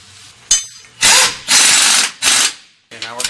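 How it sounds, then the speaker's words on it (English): Power tool or ratchet bursts on axle plate bolts during a rear trac bar install under an RV motorhome: four loud whirring bursts, each under a second, separated by short pauses and ending in a faint rattle. "Now we're going to go ahead and torque our axle plate bolts to 120 foot-pounds"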